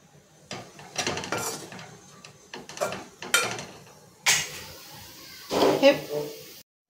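Gram flour zunka stir-fried over low gas in a pan, with a spatula scraping and clattering against the metal in bursts while someone talks throughout.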